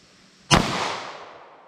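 One sharp, loud gunshot from a Ruger LCP pistol firing .380 ammunition cracks close by, followed by a ringing tail that fades slowly over about a second.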